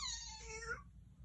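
A child imitates a cat's meow with a single short, high, falling mew, alone over a low steady background hum.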